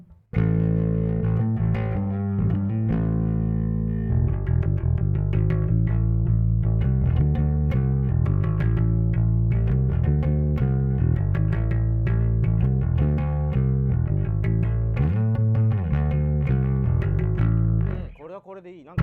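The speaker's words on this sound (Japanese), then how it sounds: "プレベちょっと歪ました音すげえ僕はすごい好きでね" A 1960s Fender Precision Bass played through distortion, a thick sustained fuzzy low tone with steady repeated notes and brief dips, loud and continuous for about eighteen seconds before cutting off.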